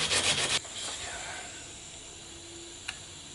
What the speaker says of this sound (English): I'm going to get some sandpaper out because I'm pretty sure these have a coating on them that I'm going to have to kind of sand off